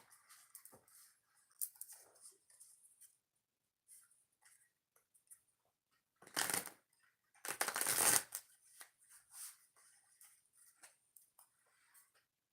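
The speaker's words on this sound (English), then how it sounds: "Two shuffles for Pick a Card reading number 3." Tarot or oracle cards shuffled by hand twice, brief crisp riffling bursts around the middle over soft tapping and handling sounds, close and fairly quiet with no talking.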